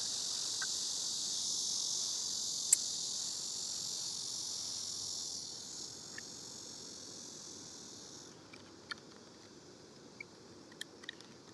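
Cicadas drone in a loud, continuous high-pitched chorus outdoors, a steady hissing buzz that drops off partway through, leaving quieter background with a few faint clicks.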